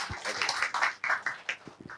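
A small group claps during a heated panel debate on open versus closed proportional voting systems, with uneven, scattered claps mixed with voices talking over them.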